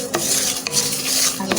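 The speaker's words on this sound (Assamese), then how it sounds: "মছলাখিনি ধুনীয়াকৈ এখন থালত উলিয়াই লৈছোঁ" Dry-roasted spices for mango pickle are scraped out of a wok onto a plate, with three sharp metal scrapes of a spoon against the pan over a gritty rustle, close and loud.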